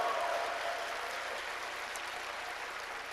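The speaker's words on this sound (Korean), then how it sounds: "다시 한번 우리 예수님께 영광의 박수를 올려드렸으면 좋겠습니다" Congregation applause at an international church conference, a steady dense wash of clapping from a large crowd filling the space at an even level, with faint singing or tones near the start and no talk over it.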